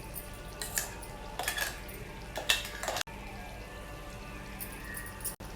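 A spoon scrapes and clinks against a pan while stirring garlic paste into chicken curry with mixed vegetables, several soft metallic strokes spaced apart, fairly quiet with no talking.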